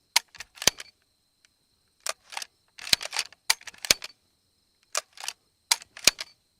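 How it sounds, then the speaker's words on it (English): A Retay Gordion semi-automatic shotgun has its bolt cycled by hand again and again, giving sharp metallic clacks in quick pairs and bursts separated by short pauses, close and crisp against silence. "I'm gonna go ahead and just run the bolt a whole bunch of times"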